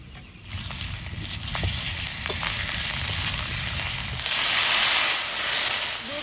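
Potatoes fried deep red sizzle steadily in oil as a little ground ginger paste goes in, giving a close, continuous hiss that swells louder partway through, with scattered small stirring clicks.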